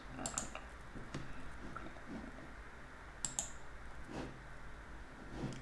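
Quiet, close clicking of a computer mouse while browsing a parts catalog in CAD software, with small scattered clicks and a brief cluster of quick clicks partway through.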